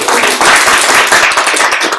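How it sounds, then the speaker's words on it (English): An audience breaks into steady applause at a live panel event in Turin, dense clapping from a crowd filling the room for a couple of seconds with no voices over it. "applause for Monica, please"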